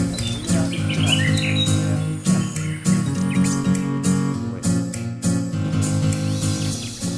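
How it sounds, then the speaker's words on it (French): Piping hornbill calls in a swamp forest in Benin, repeated sharp piping notes over a dense, constant forest chorus of insects and other birds. "Là, on entend le cri du calao longiband."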